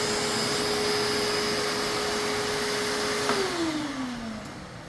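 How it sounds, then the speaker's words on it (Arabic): A Perfex 2200-watt drum vacuum cleaner with a 20-litre barrel hums steadily at full power, then is switched off and its motor winds down, the whine falling away over the final second and a half. "مكنسه بيرفكس 2200 واط، 20 لتر برميل"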